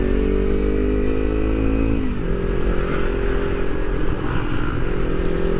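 A modified carbon-fibre Kawasaki Ninja 300 twin-cylinder motorcycle engine idling close by, a loud steady throbbing drone that dips briefly in pitch and settles back, with no voices.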